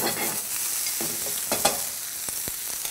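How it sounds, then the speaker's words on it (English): Steady sizzling of vegetables sautéing in a pan, with occasional stirring scrapes and a couple of sharp clicks near the end. "While we're letting those saute"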